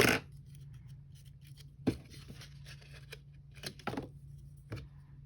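Scissors snip through a plastic Dollar Tree trifle container in a quiet room, a few sharp, separate cuts spaced over several seconds.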